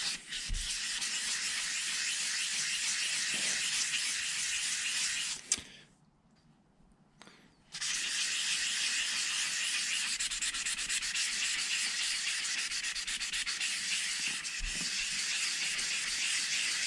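Hand sanding to strip paint off a drum shell, a steady loud abrasive rasp that runs continuously, pausing briefly for a couple of seconds before resuming with the same even scratching.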